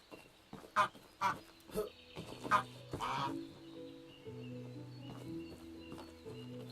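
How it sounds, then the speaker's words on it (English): Ducks and goslings in a medieval farming game honk and quack in a quick series of loud calls, then fade under droning background music. "These ducks make a lot of noise."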